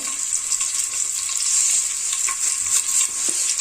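Cooking oil heats in a pan on the stove for a home-cooked curry, giving a steady, close hiss and sizzle with faint scrapes and ticks and no voices.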